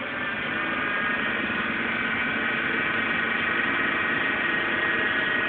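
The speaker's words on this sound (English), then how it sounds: "Transformer 2 starting up now." A large transformer powering a Thyssen-Krupp SKC 34 38.5 cm cannon hums steadily at full speed, a dense constant electrical and mechanical drone with no change in level throughout.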